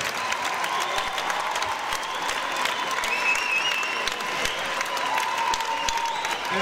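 An audience at a folk dance gala in Hungary claps steadily, a dense, sustained wave of applause filling the hall at even loudness throughout.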